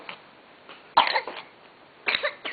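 A baby coughs indoors at home, with one sharp rasping burst about a second in and another cluster near the end, close and moderately loud against a quiet room.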